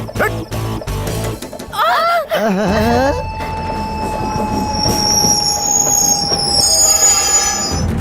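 A train pulls into Nungambakkam station, its wheels squealing and rising and falling in pitch over a heavy rolling rumble, loud and close, with voices speaking briefly near the start.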